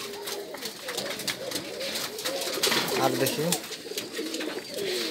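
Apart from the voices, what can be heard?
pigeons cooing at a local pigeon farm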